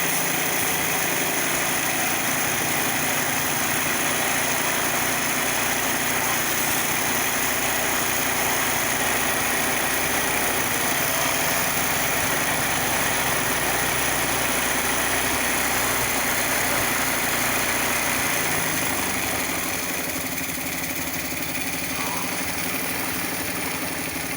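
Small carburetor engine settling at its smoothest idle after tuning, a loud, steady, buzzing drone that runs unbroken and close with no speech over it.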